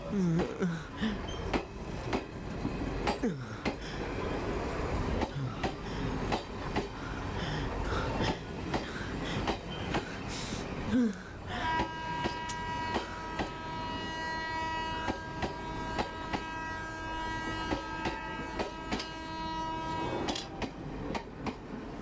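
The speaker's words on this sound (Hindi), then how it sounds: "ट्रेन चल पड़ी।" A train rumbles and clatters along at a distance, with a long sustained horn-like drone through the second half.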